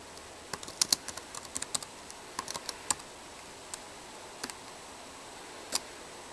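Light tapping on a computer keyboard while writing, scattered clicks in short irregular bursts with pauses between, quiet and close against a soft background hiss.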